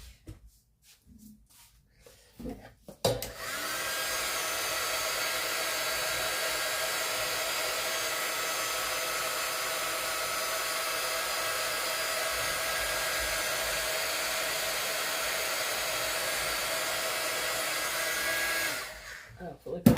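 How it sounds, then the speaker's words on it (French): A small heat gun switches on and blows hot air in one steady, loud, unbroken roar for about fifteen seconds, then cuts off, with quiet handling noises before and after during a craft project. "Je vais utiliser le petit heat gun pour voir si ça."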